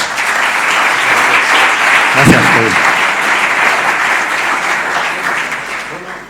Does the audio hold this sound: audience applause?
yes